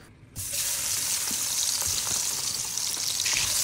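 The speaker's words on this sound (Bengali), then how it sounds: "পরিমাণ মতো তেল দিয়ে দেব। চিংড়ি মাছগুলো দিয়ে দেব।" Shrimp dropped into hot oil, with a sudden burst of loud, even frying sizzle that starts after a brief quiet moment and continues steadily up close, with no talk.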